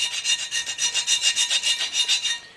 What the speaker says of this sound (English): we're just going to take and get some of this rust off because we want this to sit flat